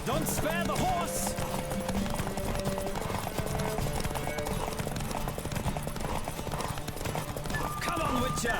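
Galloping hoofbeats from a horse in The Witcher 3 drum along steadily and close, blended with a busy game soundtrack and a brief whinny-like cry near the start.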